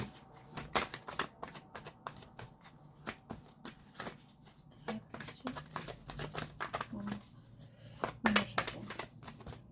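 A moonology oracle card deck being shuffled by hand, with a long run of quick crisp riffling and flicking card bursts, close and fairly quiet, plus a few soft taps.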